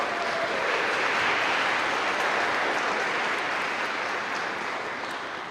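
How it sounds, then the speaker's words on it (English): An audience at a packed Christmas concert applauds: dense, sustained clapping fills the room at a steady level and tapers off slightly toward the end. "Give yourselves a round of applause."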